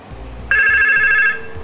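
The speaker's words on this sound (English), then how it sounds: "8007 is ringing and shows the caller ID 8200." An IP PBX office extension phone starts a single electronic ring burst after a short quiet pause, clear and close, then cuts off, with faint background murmur.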